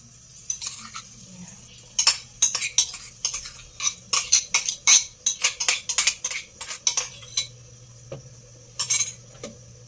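A metal utensil stirs pork tocino in a frying pan, giving a run of sharp, close scraping clinks in irregular bursts over a faint steady sizzle, with no talking.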